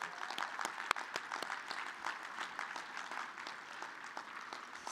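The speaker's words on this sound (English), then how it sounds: "give all the graduates and all the great people in this room a great applause" An audience applauds graduates at the CADCA Forum 2014 National Coalition Academy graduation. The clapping is steady and sustained from a full room, with scattered sharper claps standing out from the even roar.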